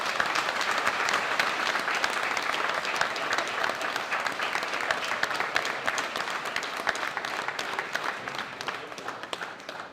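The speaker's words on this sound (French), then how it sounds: "un tonnerre d'applaudissements pour le candidat numéro 7" A large crowd gives thunderous applause for a numbered contestant at a French-speaking event. Dense, continuous clapping lasts the full ten seconds and eases only slightly toward the end.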